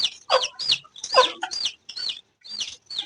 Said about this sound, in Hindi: ये रहे दो हमारे चूजे